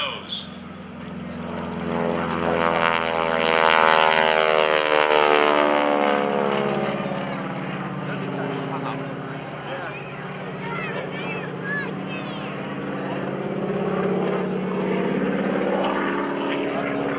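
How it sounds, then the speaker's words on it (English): Propeller aerobatic airplane taking off at the 2011 NAS Pensacola Airshow, a loud sustained engine and prop roar that swells and slowly shifts pitch as it passes, with an announcer talking over it. "gets out of ground effect, gets his speed up, and he'll roll the airplane on takeoff"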